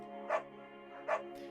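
Bucket the beagle, a dog in the Firewatch game, gives two short, fairly faint barks about a second apart over a steady low background tone.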